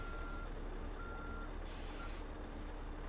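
A truck backs up with its trailer in Euro Truck Simulator 2, its reversing alarm beeping in short evenly spaced tones over a low engine rumble, with a brief hiss of air brakes partway through.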